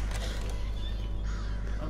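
Crows cawing in the horror video game Pineview Drive, a scattered few calls over a steady low ambient drone, fairly faint and continuous throughout.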